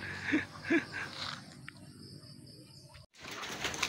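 Racing pigeons back from a four-lap sprint race give a few soft coos and calls near the loft, with brief wing flutters over faint outdoor background noise.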